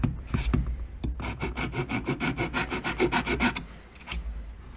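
Rhythmic rasping strokes of sanding or filing, about a dozen steady back-and-forth passes, close and fairly loud, with a few scrapes before and after.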